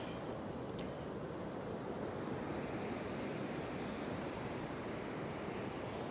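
Ocean waves wash steadily onto a shore in a continuous broadband surge, with some wind rumble on the microphone and no voices throughout.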